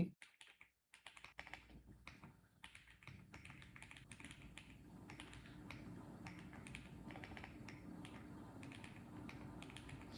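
Typing code on a computer keyboard, rapid close clicks of keys in uneven bursts with brief pauses, fairly quiet against a soft background, no talking.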